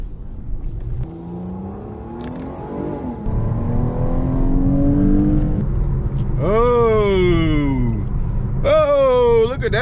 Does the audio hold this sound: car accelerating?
yes